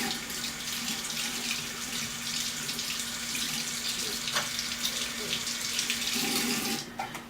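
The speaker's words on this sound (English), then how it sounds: "You hear water running. I have to wash my hands." A tap runs steadily into a sink while someone washes their hands, a continuous close hiss of flowing water that stops near the end.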